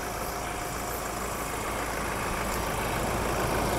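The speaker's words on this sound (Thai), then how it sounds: "ตัวนี้เป็นเครื่องยนต์ไบเทอร์โบนะฮะไบเทอร์โบ213แรงม้าแรงบิด500นิวตันเมตรนะครับ" A 2020 Ford Raptor pickup with a bi-turbo engine idles steadily nearby, a constant low rumble and broadband hum with no revving and no voices.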